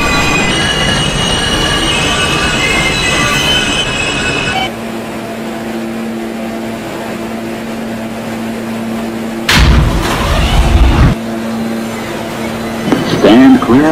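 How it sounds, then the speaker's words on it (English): Subway train in a transit video game pulling through a Coney Island bound N local station, a steady loud rumble with wheel squeal and hum, then a brief louder burst of rolling noise and clatter near the end. "This is a Coney Island bound N local train."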